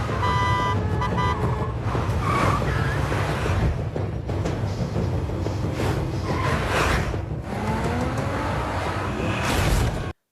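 Cars race and swerve in a crime-film chase scene, with loud, dense engine roar, rushing whooshes and tire noise filling the whole stretch before cutting off abruptly at the end.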